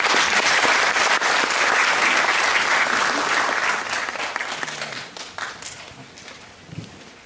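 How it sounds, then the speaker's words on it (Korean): An audience at an agricultural policy forum applauds to welcome a speaker, dense loud clapping that fills the room and then gradually thins and fades out. "박수로 맞이해 주시기 바랍니다."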